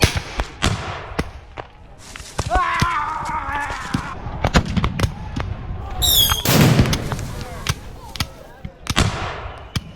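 Muskets at a Civil War reenactment fire in scattered loud cracks and booms, some close and some farther off, with a shouted command and crowd noise between shots.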